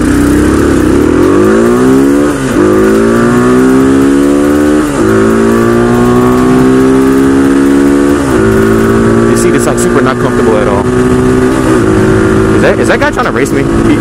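A 250cc motorcycle engine revving and accelerating through gears, loud and close, with rising engine pitch that drops at each shift, racing a Honda Accord on the road; someone talks over the engine.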